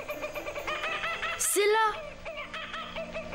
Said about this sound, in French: Un martin chasseur qui rit.